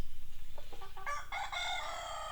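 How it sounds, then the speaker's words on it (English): A rooster crows once, close and clear, its harmonic call rising and holding for about a second and a half over a faint low hum. "Mornings when the cock crows,"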